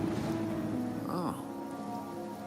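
Steady rain pours down in the video game Wuthering Waves, a dense even hiss throughout with a soft tonal chime rising and falling in the middle.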